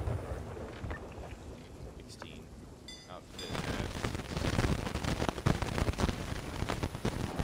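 A stormy sea aboard a ship in a video game: wind and crashing water build to a loud, turbulent roar with sharp splashes, and faint voices come and go beneath it.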